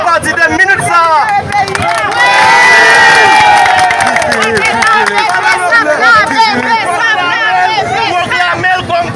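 A large crowd at a political rally in Haiti cheers and shouts loudly, swelling to a peak early on and then continuing as a dense roar of voices and chatter.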